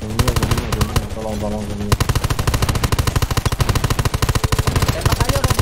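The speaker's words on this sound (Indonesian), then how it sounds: "Tembak ayo robotnya, tembak robotnya." Rapid automatic gunfire in the video game Undawn, aimed at a robot, comes as dense, rhythmic bursts, loud and close, with one brief pause before the firing resumes steadily, while voices talk over it.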